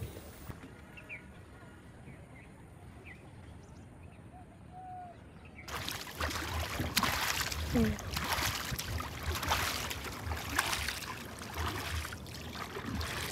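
Brahmaputra river water heard from a small boat: quiet open air with faint bird calls, then a louder, steady wash and trickle of water against the hull that continues to the end.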